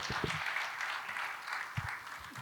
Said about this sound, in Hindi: उसके लिए सबसे पहले तालियां बजाते हैं हम